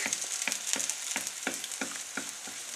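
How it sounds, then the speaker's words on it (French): Eggs fry as an omelette spread across a hot wok for Cantonese fried rice, a steady close sizzle with rhythmic scraping strokes of a utensil against the metal. "on va étaler de manière donc à avoir notre omelette à même le wok"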